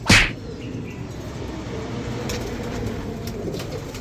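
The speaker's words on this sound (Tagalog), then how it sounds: "Ayan, yung mga ibon natin." Racing pigeons arriving during a race, with a sharp loud flap or snap at the start followed by low, soft cooing and rustling against steady background noise.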